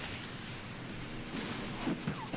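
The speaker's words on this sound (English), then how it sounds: "machine gun fire" Faint, distant machine gun fire crackles from the Cold War tactical war game Armored Brigade, with scattered short bursts over a low rumbling battlefield bed.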